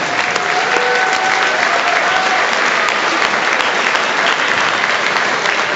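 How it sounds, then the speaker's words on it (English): Steady, loud applause from an audience at a wrestling tournament, honoring the volunteers, a dense wash of clapping that holds evenly throughout with no voices on top. "Please give them a warm round of applause."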